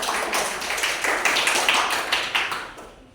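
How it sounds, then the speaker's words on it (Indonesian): Classroom clapping in an elementary school lesson, a dense, even patter of many hands that fades out toward the end, with no speech over it. "Berikan tepuk tangan terlebih dahulu."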